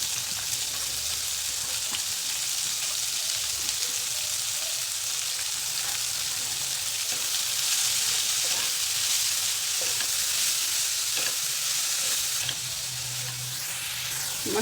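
Finely chopped spinach cooks in a hot pan, giving a steady, even hiss and sizzle throughout, close and continuous, with faint stirring knocks here and there.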